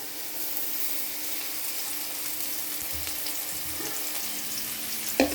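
Chopped shallots and curry leaves frying in oil for a Kerala leaf-curry tempering, giving a steady, close sizzle throughout with a few faint stirring clinks and a brief sharper clatter near the end.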